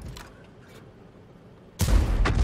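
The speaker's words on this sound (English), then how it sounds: "The Matilda will fire at him." A Matilda tank cannon fires in a video game battle: after a quiet low rumble, one loud, close boom bursts in and leaves a heavy rolling echo.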